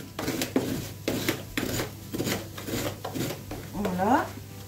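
Scraping dried sugar off apple puff pastries with a utensil makes a series of rhythmic rasping strokes at close range, with some background noise and a brief voice near the end.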